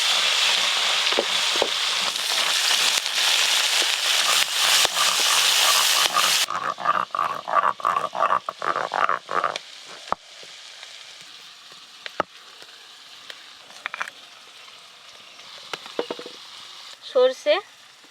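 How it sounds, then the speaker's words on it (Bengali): Small fish frying in oil for a spicy small-fish curry, a loud steady sizzle for the first several seconds that then breaks into sputtering crackles and thins to scattered pops, with a few faint sounds near the end. "বাকি মাছগুলোও ভেজে নেব"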